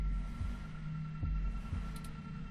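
A heartbeat sound effect from the video game 2064: Read Only Memories throbs low and steady in repeated double pulses under a constant electronic hum, with no voices.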